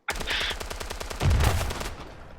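Rapid automatic gunfire in the mobile shooter Standoff 2, a loud, close burst of evenly spaced shots lasting about two seconds with a heavier boom midway.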